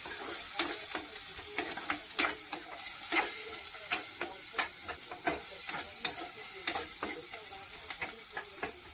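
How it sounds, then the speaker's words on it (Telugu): Ginger paste fries in a pan for a tomato egg curry, crackling under a continuous hiss while a spoon stirs it in a quick run of clicking scrapes. "అల్లం పేస్ట్ వేసి మంచిగా కలుపుకోవాలి"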